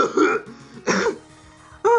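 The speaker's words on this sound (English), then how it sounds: "I gotta clear my throat." A person clears their throat in a few harsh, rasping bursts, loud and close, separated by brief quieter gaps, with no other voices.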